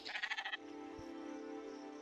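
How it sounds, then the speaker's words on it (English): Sheep in the video game Spiritfarer give a quick run of repeated bleats at the start, then fall silent while a steady, gentle game music bed carries on underneath. "Is that our sheep?"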